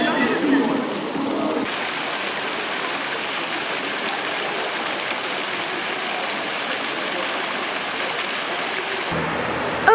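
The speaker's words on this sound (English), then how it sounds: "now you're getting a tour of completely random fountains around Varna" Public fountains in Varna, Bulgaria, send out a constant splashing rush of falling water, close and steady throughout, with the tone shifting slightly as the camera moves between fountains and no talking.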